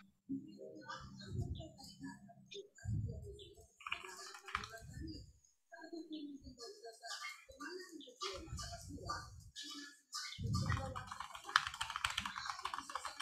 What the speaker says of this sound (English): You can hear a keyboard.